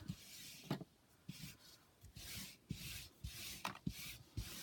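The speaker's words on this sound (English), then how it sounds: "I just rubbed my ink pad across to get some color" An ink pad is rubbed back and forth across textured wallpaper, making soft, close, scratchy swishes in irregular strokes with small taps between them, quiet and with no talking.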